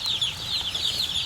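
Many baby chicks cheep and chickens cluck together in a dense, continuous chorus, fairly close, in a crowded farm barn.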